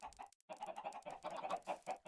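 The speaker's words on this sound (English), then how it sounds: "Oh, these chickens need to be put down." Chickens cluck in a Minecraft game of the Enigmatica 6 modpack, a run of close, busy clucks with a short gap early on and no talking.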